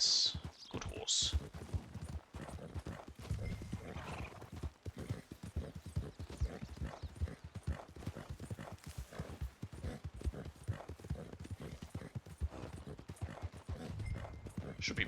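Horse hooves clip-clop steadily in Red Dead Redemption 2, a continuous rhythmic trot running the whole time beneath someone talking, with a brief whinny-like sound early on.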